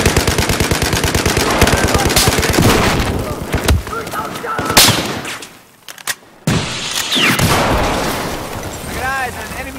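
Rapid machine-gun fire and a grenade explosion roar through a Battlefield 4 match on the Golmud-style peaks map, with loud rhythmic bursts, a heavy boom midway and a brief lull before the firing resumes, voices faintly under it.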